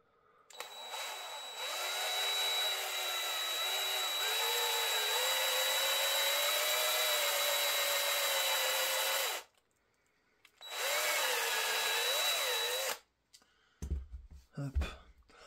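A power drill with a 4.5 mm bit bores through a metal part on a Traxxas Widemaxx RC model, whining steadily for several seconds, pausing, then running again in a shorter burst before some handling clatter.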